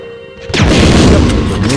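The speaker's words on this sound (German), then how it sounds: "damit haben wir alle 6 Schuss verballert" A quiet hum breaks into one loud gunshot in Resident Evil 2, followed by a heavy, booming rumble that lingers to the end.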